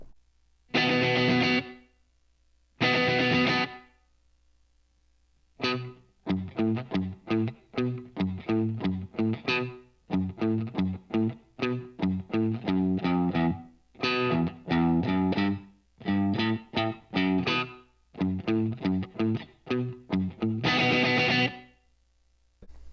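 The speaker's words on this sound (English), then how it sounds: "I'm adding the double tank reverb to it" Distorted, effected guitar playing a choppy rhythmic pattern with short chords and gaps, washed in a roomy, lingering reverb from a room reverb combined with a double tank reverb.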